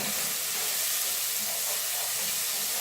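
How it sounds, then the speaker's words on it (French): Chopped carrot and onion hitting hot olive oil in a preheated sauté pan, a loud steady sizzle and hiss that stays even throughout without speech. "Donc je vais y ajouter ma carotte et mon oignon"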